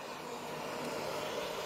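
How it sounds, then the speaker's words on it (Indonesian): CODY 8033D portable hot air rework station with its fan at maximum airflow, a steady broadband whoosh that stays even and fairly quiet with no talking. "Ini suara di angin maksimal"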